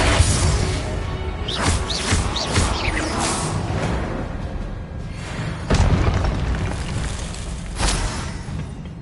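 Magic spells cast in rapid succession during a Hogwarts Legacy battle: ice, fire and blasting spells whoosh and burst into loud booms and crashes, several overlapping impacts with a heavy blast near the middle and another toward the end.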